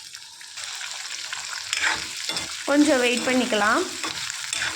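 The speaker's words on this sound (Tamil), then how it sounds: "பூண்டு வெங்காயமும் நல்லா அந்த எண்ணெயிலேயே நல்லா ஃப்ரை ஆகணும்." Garlic and onion fry in oil with curry leaves for garlic kuzhambu, making a loud close sizzle broken by scraping stirs, with a voice speaking briefly over it.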